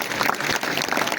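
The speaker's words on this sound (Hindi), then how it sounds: "एक बार जोरदार तालियां इनके लिए।" Group applause for a learner at a driving school, a short, continuous patter of many hands clapping, fairly loud and close.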